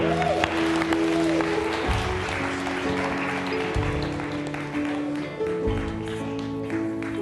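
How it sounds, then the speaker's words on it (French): Church congregation applauding at a Sunday service, sustained moderate clapping with organ or keyboard chords sounding underneath and faint crowd voices. "On applaudit Jésus ce matin."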